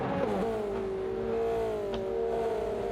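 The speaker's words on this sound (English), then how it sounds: "Love the sounds of these cars." Race car engines in a video game at the Fuji circuit whine in a high, sustained tone, pitch dipping and then holding steady as the pack drives on, loud and without speech.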